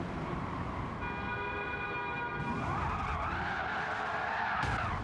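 A car spins out and skids in the racing game Gran Turismo 7, with loud continuous tire squeal over engine noise that shifts pitch midway as the slide continues, with no speech.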